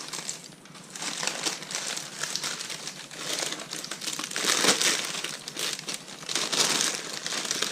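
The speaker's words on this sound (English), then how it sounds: "So I'm going to go ahead and remove the paper." Baking paper peeled off a freshly baked vanilla cake and crumpled by hand, giving close, continuous crinkling and rustling that swells and fades over several seconds, with no talk.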